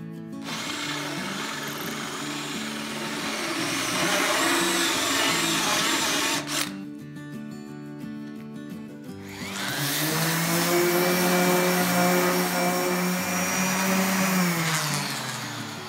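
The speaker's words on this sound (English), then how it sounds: "The center hole can now be enlarged." A power tool enlarging a center hole during metal fabrication for a 420 cc lawnmower engine swap, with a continuous loud whirring drone, a brief pause partway, and the motor then running again with a shifting pitch.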